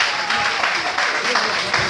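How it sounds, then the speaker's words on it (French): A live audience applauds a guest at an evening event in Abidjan: dense, continuous clapping from a sizable crowd, loud and close, sustained without a break. "Applaudissements pour David Monceau"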